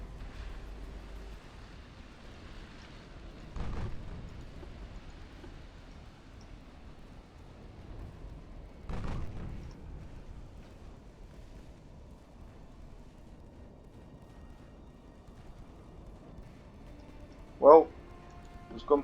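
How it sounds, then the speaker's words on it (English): Two distant, muffled gunshots boom several seconds apart over a low ambient rumble, followed later by a brief sharp higher-pitched burst; gunfire in the naval warfare video game Ultimate Admiral: Dreadnoughts. "there's gunfire coming from over there"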